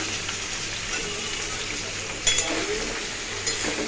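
Boiled soybean chunks fry in a pan, a steady close sizzle with a couple of sharp stirring clinks and pops partway through, no talking.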